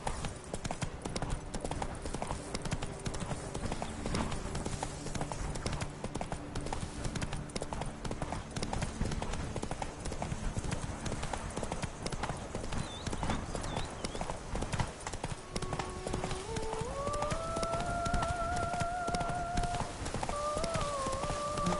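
Horse hooves clip-clop steadily at a gallop in The Witcher 3, continuous and fairly loud under game music and ambience, with a brief tonal melody rising near the end.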